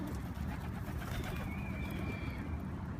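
Wild pigeons coo softly amid a steady busy outdoor background of bird activity and ambient noise, a faint whistle-like tone drifting through midway.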